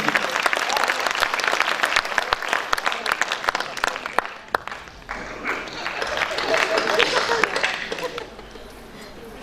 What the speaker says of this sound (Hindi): एक बार जोरदार तालियों के साथ आवाज दीजिए बलबीर सिंह खिचड़ी की।